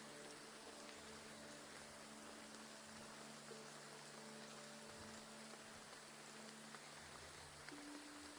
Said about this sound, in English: the absolute downpour